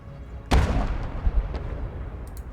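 Artillery gun fires a shell in the Legion of the Damned game: one sudden, heavy boom followed by a rumbling decay lasting about two seconds, fairly close, with faint voices in the background.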